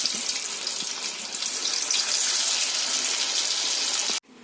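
Battered cauliflower pieces for Gobi 65 deep-fry in hot oil, producing a loud, steady close hiss of bubbling sizzle that holds evenly before stopping abruptly.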